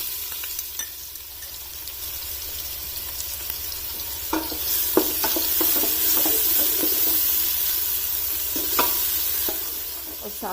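Chopped onion for mutton mandi frying in ghee in a pan, a loud continuous sizzle and hiss with clinking stirring strokes near the middle, close up and without talk.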